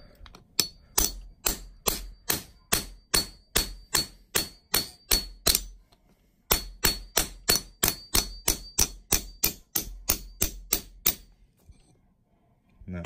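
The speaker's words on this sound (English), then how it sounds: "Now I gotta punch this through with a hammer, and it's pretty loud." A hammer drives a steel punch through a coin while making a coin ring, giving loud, sharp metallic clangs in a steady rhythm: a run of about a dozen blows, a brief pause, then another similar run.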